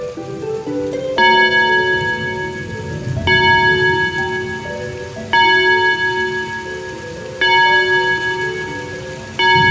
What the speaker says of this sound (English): A strange clock begins to chime loudly.